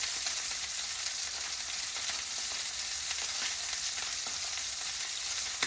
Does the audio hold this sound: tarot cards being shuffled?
no